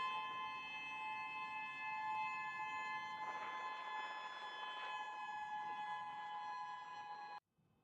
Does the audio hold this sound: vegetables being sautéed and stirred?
no